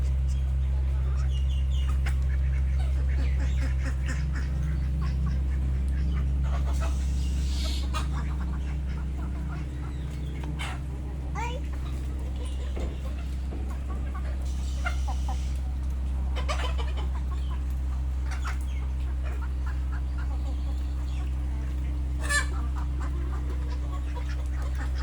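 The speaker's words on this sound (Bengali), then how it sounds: "এই যে একসাথে হাঁস, রাজহাঁস, পাক পাক পাক পাক পাক।" Domestic chickens and ducks kept together in a village yard, clucking and quacking in scattered bursts over a steady low hum, with calls near and far throughout.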